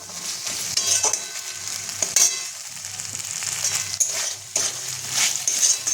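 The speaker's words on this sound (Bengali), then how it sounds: "এবার এটার মধ্যে আমি একটু জল দিয়ে দেবো, অল্প পরিমাণে জল দিয়ে দেবো" A chickpea and sweet pumpkin curry fries in a pan, with steady close sizzling, stirring scrapes and a few sharp clinks and bursts as a little water goes in, without any speech.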